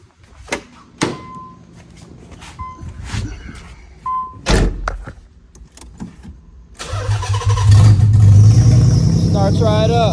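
Nissan 300ZX drift project car, freshly refuelled with a new fuel filter, heard through a few thunks and clicks before the engine cranks and fires, settling into a loud, steady idle up close.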